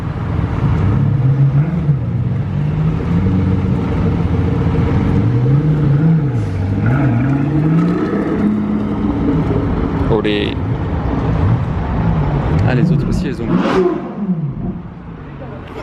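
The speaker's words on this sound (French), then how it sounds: "Le mouvement, la Pagani bouge." A Pagani hypercar engine hums and revs in low rising and falling swells as the car moves during a truck delivery in Monaco, steady and fairly loud, with voices over it.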